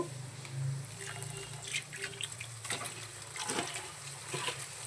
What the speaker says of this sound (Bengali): শাকটা একটু ধুয়ে নেব